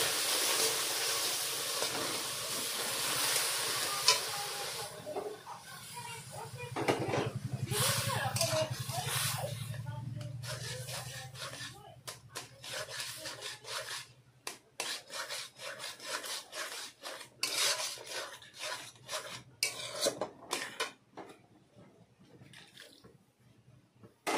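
Toasted semolina being stirred with milk in a pan, a wet rubbing and scraping of the spoon that grows choppier and more rhythmic midway, with a voice talking over it.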